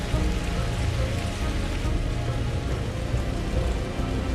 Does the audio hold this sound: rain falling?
yes